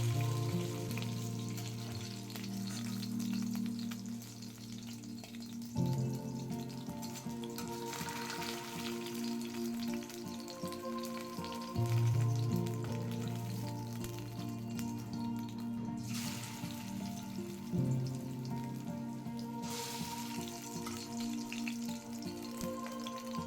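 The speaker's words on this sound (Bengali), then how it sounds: "গরম তেলে একে একে মাছগুলো ভেজে নিতে হবে।" Hilsa fish pieces frying one by one in hot mustard oil, a continuous crackling sizzle with a few louder bursts as pieces are moved or added, no talking.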